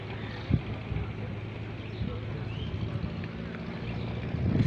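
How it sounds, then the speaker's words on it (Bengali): Outdoor ambience at Pekuiya launch ferry terminal, with a steady broadband wash of wind and boat engines and a low engine drone throughout, plus occasional brief knocks and bumps nearby, swelling slightly at the end. "আমি বর্তমানে আমি ফেরিঘাটে, লঞ্চ ফেরিঘাটে আছি।"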